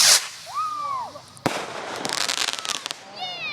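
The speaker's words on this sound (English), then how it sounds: "Now that's a bottle rocket." A bottle rocket firework launches with a sharp whistling whoosh and bursts with a crackle, then a run of quick pops and another rising whistle, while voices talk and react.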